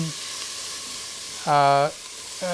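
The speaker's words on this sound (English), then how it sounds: "just letting the onions brown up a little bit, but I don't want to burn them" Onions fry in avocado oil inside an Instant Pot with a constant close sizzle, briefly interrupted by a short tonal beep partway through.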